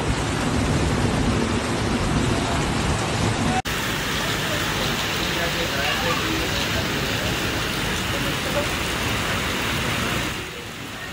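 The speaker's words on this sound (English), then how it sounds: "Dubai was flooded after heavy rains and thunderstorms." Heavy rain from a thunderstorm in Dubai pours down in a dense, constant roar, with a brief cut partway through and the downpour easing slightly near the end.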